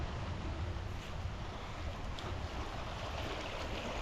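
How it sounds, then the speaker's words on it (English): A small stream or little river flowing beneath a road bridge, giving a steady, continuous rush of water that stays even throughout with no voices. "Nice little stream, or maybe small river road is crossing over"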